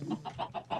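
Minecraft chickens clucking in a short run of four quick, moderately loud clucks with no talk over them.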